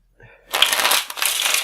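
A deck of playing cards riffled and shuffled close up during a card magic trick, a brief soft start then a dense crisp flutter of cards lasting over a second.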